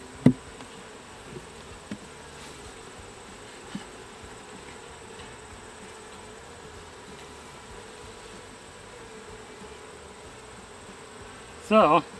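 Honey bees hum around a nuc hive in a steady, faint, continuous drone, with a few soft clicks and knocks and a brief louder rustle near the end.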